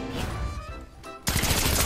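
Fortnite gunfire erupts as a loud, dense burst of rapid shots that starts abruptly and keeps going after a quieter stretch of game sounds.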